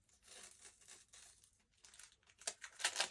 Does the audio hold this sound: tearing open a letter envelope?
yes